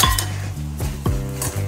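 Poha chivda being tossed with spices in a pan off the heat, a few close metallic scrapes and clinks of a spoon against the pan over a short stretch, no voices.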